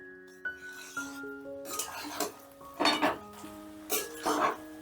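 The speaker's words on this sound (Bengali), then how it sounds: "এবারে ভেন্ডিগুলো দিয়েও একটু নাড়াচাড়া করে নেব" Utensil scraping and rubbing against a pan as potatoes and okra are stirred for a dry dhaba-style curry, several loud rasping strokes in bursts, with a faint tonal hum underneath.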